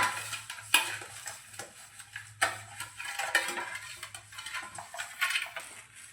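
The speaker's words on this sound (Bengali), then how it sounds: "কেক টিনটার মধ্যে খুব ভালোভাবে তেলটা গুলিয়ে নেব।" Oil being rubbed around the inside of a cake tin by hand, producing faint, irregular scraping and light metallic knocks against the tin over a low steady hum.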